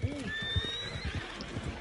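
Horse whinnying in Red Dead Redemption 2, a sharp descending neigh near the start followed by steady clip-clop hooves and breathy snorts, close and clear over a faint background hum.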